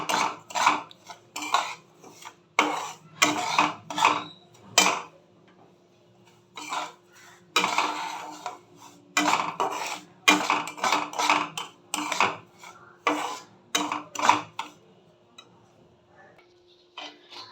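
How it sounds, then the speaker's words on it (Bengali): A spoon scrapes and clinks against a pan as semolina is stirred and fried in about two tablespoons of ghee. Rapid, uneven strokes come in bursts with short pauses between them, close and fairly loud. "ঘি দিয়ে একটু ভালো করে একটু ভেজে নেব"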